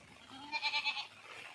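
A single goat bleat, a wavering nasal call lasting under a second, heard moderately close against quiet background.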